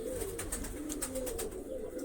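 Two or three pigeons perched close by give low, soft coos, quiet against a faint steady background.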